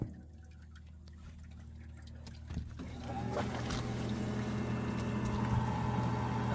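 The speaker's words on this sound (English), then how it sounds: "we're gonna make sure that the pump is actually pumping the way it's supposed to" An Aerocool evaporative cooler's water pump kicks on with a faint click partway through, then a steady, rising hum and trickle of water settle in and run continuously, quiet and close.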